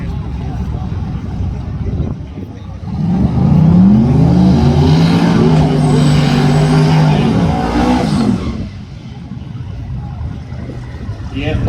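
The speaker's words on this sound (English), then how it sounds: "739 at 186 miles an hour rolling through those gears" A drag race car at a streetcar takeover event at a motorsports park roars past, engine note climbing and shifting through gears, loud and sustained for several seconds before fading, with an announcer talking over it.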